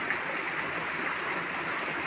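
Water trickles steadily inside a large forest cave, seeping out from the middle of the rock, a continuous broadband wash with no speech over it.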